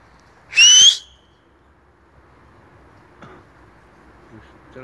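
Loud, sharp human whistle lasting about half a second, rising in pitch, made by people scaring off pigeons near a loft during an evening training flight in Elbląg, followed by quiet background with a few faint knocks.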